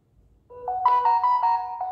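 A phone message notification plays a bright, clean melodic ringtone: a rising run of a few pure tones, then a held ringing note, loud and close in an otherwise quiet room.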